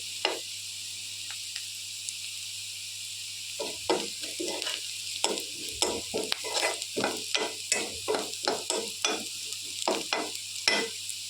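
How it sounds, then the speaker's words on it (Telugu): Ingredients frying in a pan for a chapati curry, with a constant light sizzle and a rapid series of close scraping stirs from a spoon or spatula, speeding into a steady rhythm. "బ్రౌన్ కలర్ వచ్చేదాకా వేగనివ్వాలండి. ఇలా తిప్పుకుంటూ ఉండాలి."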